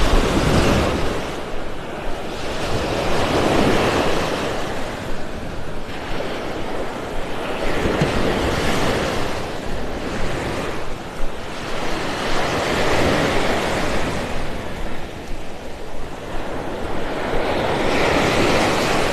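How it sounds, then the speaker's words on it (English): Ocean surf rolls onto a beach in North Naples, Florida, with broad washes of waves swelling and receding in slow cycles, mixed with gusty wind buffeting the microphone; no one speaks. "walking by the ocean just kind of clears your head, opens up your mind."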